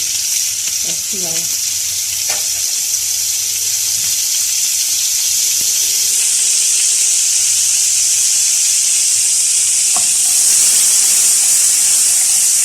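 Garlic frying in oil and butter in a pan while a creamy sauce is started: constant close, loud hiss and crackle of sizzling fat, with a few faint clinks and a brief voice early on.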